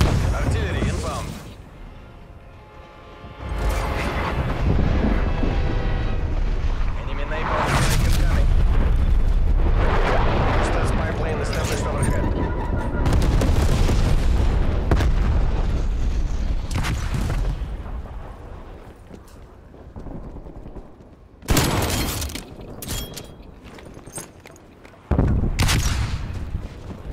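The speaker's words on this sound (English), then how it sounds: "Artillery inbound." Artillery strike explosions in Call of Duty: Black Ops Cold War, a long rolling barrage of loud booms and blasts that swells and lingers for many seconds, then a few sharp separate impacts near the end, under game voice callouts.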